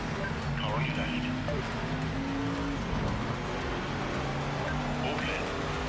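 Race car engine in Le Mans Ultimate, a steady droning pass with shifting pitch, mid-distance and fairly loud, running continuously under background game noise.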